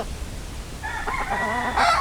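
A fighting rooster from a breeder's bloodline crows once, starting after a short lull and building into a loud, strained call near the end, close by.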